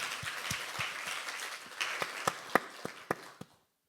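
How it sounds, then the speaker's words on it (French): Audience applause at a talk, thinning to scattered individual claps with a few sharp louder ones before stopping abruptly into silence. "Merci, on peut l'applaudir."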